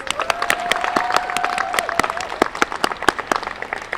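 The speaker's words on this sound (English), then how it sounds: "Please give them all a round of applause." A crowd applauds hospital program staff at an event in San Francisco welcoming the AIDS Memorial Quilt. The clapping is continuous with sharp individual claps standing out, and a sustained tonal voice or whistle carries over the first half.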